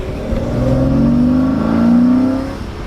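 A BMW E36 with a blown engine revs while being driven, a loud rising and falling engine drone that climbs twice in pitch over about three seconds, close and steady with no talk.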